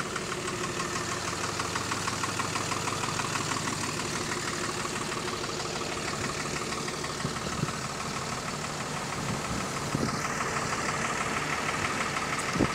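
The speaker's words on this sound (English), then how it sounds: "listen to that exhaust though" A bus engine idles steadily with a rumbling, chugging exhaust note, continuous and fairly close, with no voices over it.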